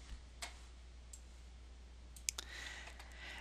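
Sharp computer mouse clicks in a quiet room: one near the start, a lone click just before halfway, then a quick cluster of two or three clicks late, over low steady hum.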